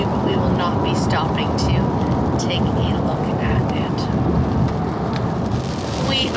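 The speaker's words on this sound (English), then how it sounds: "The rain is coming down." Steady rain falling on a vehicle driving through West Virginia, a constant broadband wash of drops and road noise that stays loud and even throughout, with scattered heavier patters.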